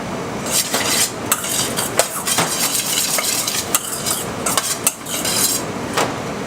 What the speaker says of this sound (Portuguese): Misturo bem. Vou colocar um pouquinho de azeite.